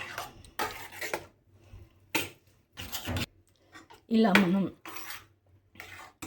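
Spoon stirring and mixing curd rice with milk in a bowl, made as a temple prasadam offering, giving a few short clinking and scraping bursts between pauses under a woman's speech.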